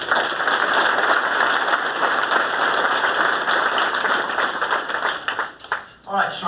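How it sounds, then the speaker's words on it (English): An audience at a program presentation event gives a round of applause: dense, steady clapping holds loud and even for about five seconds, then thins and fades out in the last moments. "Give them another round of applause, please."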